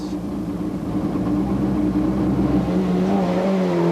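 A Peugeot 309 rally car pulls away on a 1993 Nacht van Achtmaal stage, its engine droning and rising steadily in pitch, loud and fairly close.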